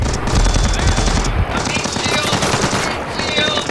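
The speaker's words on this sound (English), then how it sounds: "No, they're shooting at me!" Rapid automatic gunfire from a co-op round of the video game Splinter Cell Blacklist rattles continuously and loudly at close range, with bursts overlapping through the whole stretch and faint talk mixed in.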